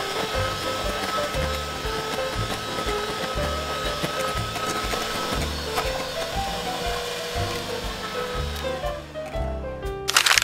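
An electric mixer whirs steadily at close range, whipping egg whites with cornstarch toward soft peaks, a continuous motor drone with slight rhythmic wobble that stops abruptly at the end.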